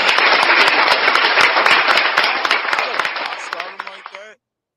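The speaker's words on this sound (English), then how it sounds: "Clap it up." Dense applause from a group of people, loud and continuous, thinning toward the end before cutting off abruptly.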